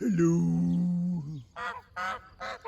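Geese honk outdoors, starting with one long, loud, drawn-out honk. A person then speaks in short bursts.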